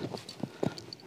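Horses' hooves clip-clop on a horse-game field, several quick irregular hoof strikes at moderate distance, faint and without talk.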